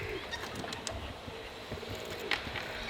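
Pigeons cooing outdoors near someone carrying groceries, a few soft, low coos and faint flutters over a background of steady ambient noise.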